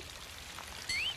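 Water runs briefly from a cartoon faucet, a soft splashing trickle followed by a short rising squeaky whistle near the end.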